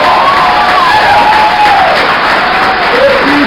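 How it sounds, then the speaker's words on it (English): A crowd at a political rally applauds and cheers, dense continuous clapping with shouts and whoops rising over it, loud and close throughout. "Give me a round of applause."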